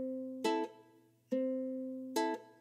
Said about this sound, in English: So then the rhythm should sound like this.